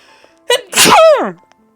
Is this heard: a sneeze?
yes